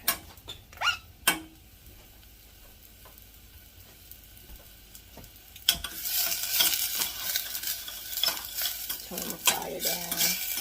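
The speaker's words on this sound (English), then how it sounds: "we're just going to saute them a little bit" A few scrapes and clinks of a utensil in a pan come first, then ingredients for salmon lasagna hit hot butter and settle into a loud, continuous sizzle while being stirred.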